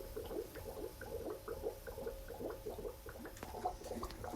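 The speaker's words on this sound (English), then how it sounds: "It's bubbling now." Water gurgles and bubbles in a quick, steady series of low glugs, like liquid draining from a tank, fairly faint and continuous.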